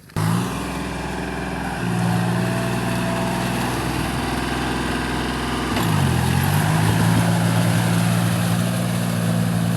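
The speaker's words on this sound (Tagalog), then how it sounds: "lakas ng traktora kasi ng makina" Farm tractor engine running in a rice field, a loud, steady close rumble that rises in pitch at the start and again midway.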